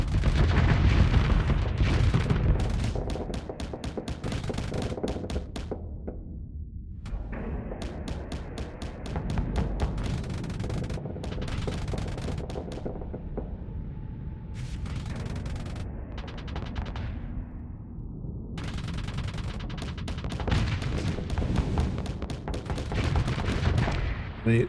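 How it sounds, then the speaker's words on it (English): Missile salvos and weapon fire in the space combat game Starsector with low-tech pirate ships, a dense barrage of rapid booming shots and thuds that keeps up with brief gaps throughout. "so he's fired the missiles there."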